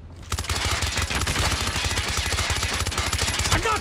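Sniper rifle gunfire in Call of Duty, a loud close burst of rapid repeated shots running continuously for several seconds with no talk.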